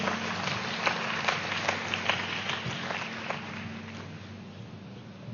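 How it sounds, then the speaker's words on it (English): Audience at a meditation-day event welcomes a speaker with a round of applause, a moderate spread of claps over steady room hum that gradually thins toward the end. "I would love to welcome Sanjana with a round of applause"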